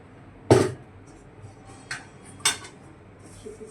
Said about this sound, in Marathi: मी भांडे घासते